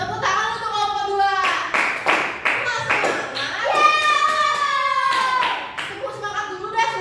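Classroom applause for the second student group as they come forward, a short burst of clapping mixed with children's voices and a teacher talking over it.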